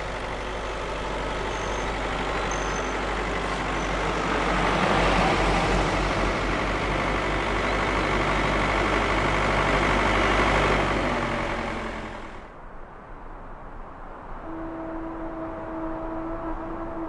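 Heavy timber trucks driving through a forest in southeastern Tibet, a loud, steady engine roar that swells in the middle and cuts off abruptly near the end, leaving quieter ambience with faint tones.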